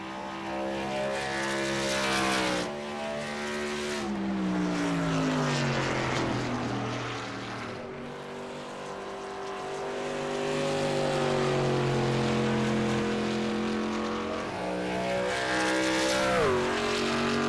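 A race car roars down the back stretch of a racing event at Gateway, its engine note rising and falling in pitch as it passes, loud and continuous with no talk over it.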